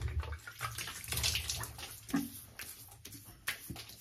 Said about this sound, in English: Wet the face a bit.